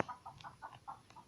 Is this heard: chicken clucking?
yes